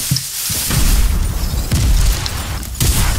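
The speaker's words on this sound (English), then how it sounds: "It's damn grenades." Grenade explosions in a video game, several loud booming blasts with deep rumbling tails spaced a second or so apart, close and heavy.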